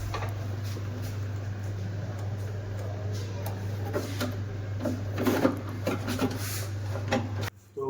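A Pureit RO copper water purifier with UV and MF stages, just back from a power supply repair, runs with a steady low electrical hum. Close scraping and handling clatter sit on top, and the hum drops out briefly near the end.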